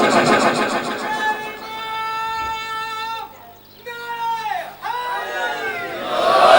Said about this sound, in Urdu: پیچھے سے ایک نعرہ ہے، پتہ چلے نعرہ چلا، پیچھے سے نعرہ